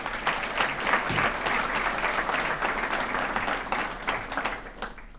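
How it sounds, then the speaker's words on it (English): A university scholar-athlete recognition awards audience claps steadily in a sustained, dense round of applause that slowly fades near the end. "So please a round of applause for them."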